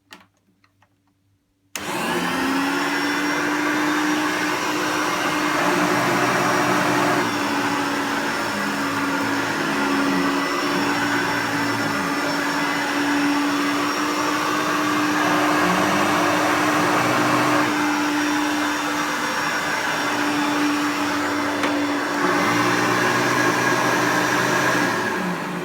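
A 1996 Hoover Turbopower U2806 upright vacuum cleaner with a badly worn belt switches on and runs with a steady, loud motor drone and whine, continuing unbroken after a brief quiet start.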